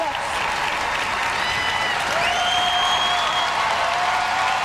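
Steady sustained applause from a large audience at the Westminster Dog Show, a dense continuous clatter of clapping with cheering and an announcer's voice faintly above it.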